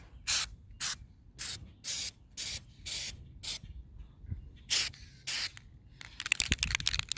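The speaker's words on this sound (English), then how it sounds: "shake well spray 8 to 12 inches" A Flex Seal spray can hisses in about a dozen short, sharp bursts of roughly equal length, separated by brief silences, used on the leaking sunroof of a 2006 Lincoln Town Car; the final bursts come faster and more broken.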